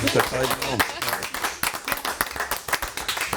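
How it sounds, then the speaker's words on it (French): A studio audience claps in a lively burst of crisp, closely spaced claps that gradually thin into scattered individual claps, with some voices mixed in. "On peut l'applaudir Tara"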